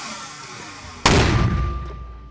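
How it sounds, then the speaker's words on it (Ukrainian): A single loud artillery blast booms suddenly after a quiet moment, its rumbling roar fading slowly away, on a frontline position near Kupiansk. "Постріл!"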